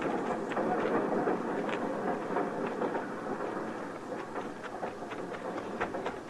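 A train rumbles along with a continuous, broad roar and faint rhythmic clatter from the wheels, fairly loud and steady throughout and easing off slightly toward the end, in an old western radio drama.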